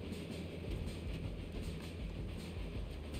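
A steam train in LittleBigPlanet 3 rumbles along in a dense, steady roar, loud and continuous, with a faint rhythmic clatter underneath.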